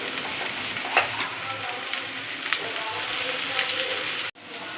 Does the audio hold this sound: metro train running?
no